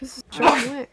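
A single sharp sneeze bursts out mid-speech, loud and close, with talking right before it and continuing around it.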